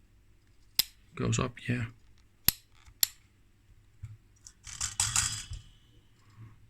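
The range selector on a 1933 Hartmann & Braun Multavi II meter snaps through a few sharp, close clicks, spaced unevenly and separated by a man's speech and some handling noise.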